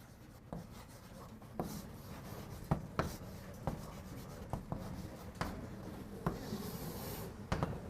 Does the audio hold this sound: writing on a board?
yes